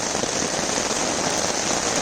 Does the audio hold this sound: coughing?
no